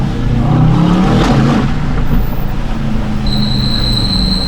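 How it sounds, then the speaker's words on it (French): An Aston Martin DBX 707 SUV with its V8 and sport exhaust gives a loud, close, continuous rumbling drone that swells slightly early on, with a thin whine appearing near the end and no talking. "écoutez la sonorité de ce V8 avec cet échappement sport"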